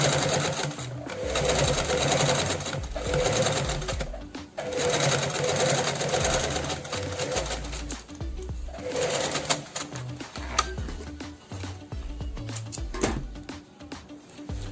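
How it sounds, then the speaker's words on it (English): A sewing machine runs a straight top stitch across the top of a zipper pouch, its motor whirring steadily in long bursts separated by short pauses, close and clear, with faint bird cooing in the background. "We're just gonna straight stitch right across the top."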